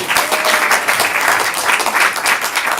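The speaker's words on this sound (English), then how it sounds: "Give Aaron a round of applause." A comedy club crowd claps for a stand-up comedian being introduced, a full, even round of applause with a slightly pulsing texture and no voices over it.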